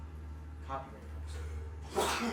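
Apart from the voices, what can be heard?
sneeze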